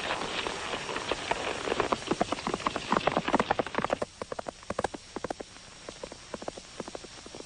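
Horse hooves clip-clop in a steady trotting rhythm, loud and busy at first, then thinning out and settling into a lighter, more spaced beat in an outdoor Western setting.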